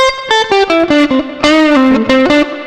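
An electric guitar with heavy distortion plays a quick run of single notes through the minor pentatonic scale, loud and close, each note sustained briefly, with no talking.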